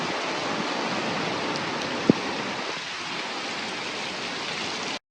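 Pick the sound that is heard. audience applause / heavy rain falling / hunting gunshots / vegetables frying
heavy rain falling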